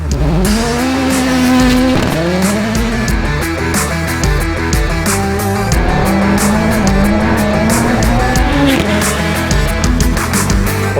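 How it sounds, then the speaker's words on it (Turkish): A Ford Puma Rally1 WRC car roars past at speed on a rally stage, engine screaming through gear changes with tire noise and gravel spray, loud and continuous. "bugün burada ikonik bir etapta Rally bir otomobili kullanıyorum"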